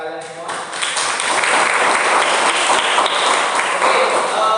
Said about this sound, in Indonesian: Terima kasih tepuk tangan buat kalian semua.